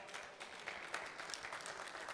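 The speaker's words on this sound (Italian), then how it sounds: "Un applauso." Faint, dense applause from the audience at a harness-racing awards ceremony, a soft, even patter of many hands held at a low level throughout.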